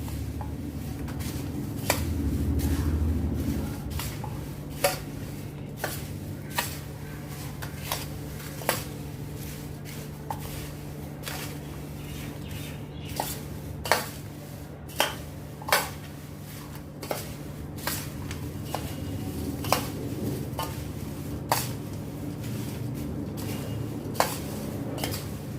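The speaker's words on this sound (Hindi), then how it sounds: "इनको अच्छी तरह से अभी मैं मिक्स करती हूँ।" Roasted poha namkeen being stirred and mixed in a pan, with soft scraping and intermittent light clinks of a spoon against the pan, steady and fairly quiet throughout.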